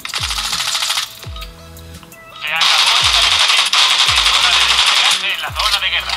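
Automatic gunfire from the mobile game Call of Duty Warzone Mobile, played on a HONOR Magic 6 Lite phone: loud sustained rapid bursts with a few gaps, over repeated low thuds, while someone talks throughout.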